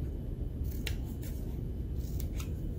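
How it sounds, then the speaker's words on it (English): A handheld hole punch bites through a sheet of paper during a surface tension boat science activity, giving a few close, crisp crunching clicks over a steady low background hum. "I'm going to use my hole punch again"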